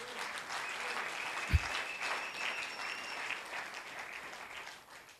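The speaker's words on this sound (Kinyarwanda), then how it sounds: "Amashyi menshi ku Mwana." A church congregation claps steadily throughout, a dense, even wash of applause from a crowd that fades slightly toward the end, with no clear speech over it.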